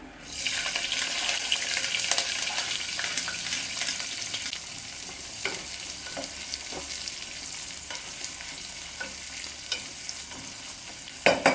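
Onions, green chillies and curry leaves tossed into hot oil for a meal maker pulao burst into a loud, dense sizzle that hisses on continuously, with occasional scrapes of stirring and no talking.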